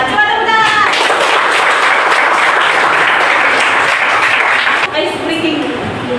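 Loud, sustained applause from an audience at a morning business gathering where participants present their products, dense clapping that fills several seconds and fades, with voices and cheers at the start and end.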